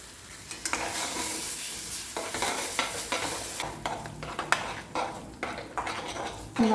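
Cooked, ground jackfruit being stirred into a batter for a layered sandwich snack, a steady scraping and clinking of a spoon against a bowl with occasional sharper knocks, close and alone without voices.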